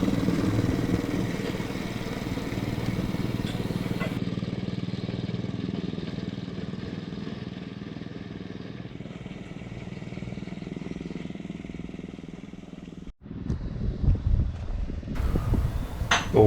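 A petrol miniature railway locomotive hauls stock on a 7¼-inch garden track, its small engine buzzing steadily up close with light clatter, easing off briefly near the end before picking up again.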